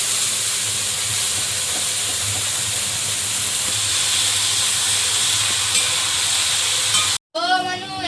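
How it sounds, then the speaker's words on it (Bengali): Prawns fry in hot oil in an outdoor village kitchen in the Sundarbans, making a loud, continuous close sizzle and hiss that holds steady throughout, then is cut off by a brief tonal sound near the end. "আর ওদিকে চিংড়ি ভাজা হচ্ছে"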